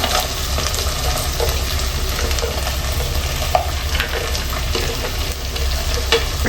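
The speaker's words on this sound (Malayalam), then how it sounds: "നമ്മൾ ഫ്രൈ ചെയ്ത് വെച്ച കാഷ്യൂ ആഡ് ചെയ്ത് കൊടുക്കാം. പിന്നെ നമ്മുടെ മെയിൻ ഐറ്റം ചിക്കൻ ഇട്ട് കൊടുക്കാം." Chicken, sauce and fried cashews stir-frying in a pan, a steady close sizzle with scraping stirs throughout, no voices.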